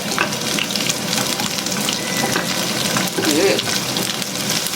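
Chopped onions sautéing in a pan for a simple Filipino lunch dish, a steady close sizzle and crackle throughout with faint stirring scrapes.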